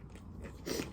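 A crunchy fried chicken lollipop is bitten into, giving one close, crisp crunch with faint chewing around it, heard quietly with no talking.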